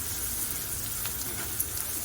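Leftover chapati pieces dropped into a pan of sizzling chili tempering, a steady soft hiss and crackle of hot oil, even and close, with no voices.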